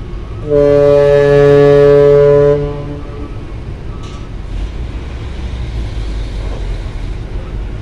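KMP Nusa Mulia, a ferry ship arriving to dock at night at a pier, gives a loud sustained horn blast of about two seconds, followed by a quieter background of low engine rumble and harbor noise.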